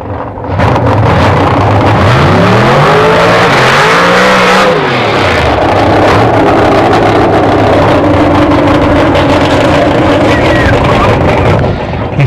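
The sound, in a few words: Ford Sapphire drag race car trial launch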